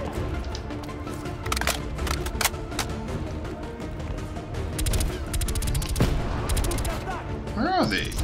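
Enemy gunfire in Call of Duty: Black Ops Cold War, with sharp cracks and short bursts from a firefight near Burger Town rooftops, sounding under a voice, with a rising whistling effect near the end.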